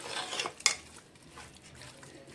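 Chicken curry ingredients are stirred in a pressure cooker with a spoon, giving a soft scraping and shuffling, then one sharp metallic clink against the pot, faint and close, with no talking.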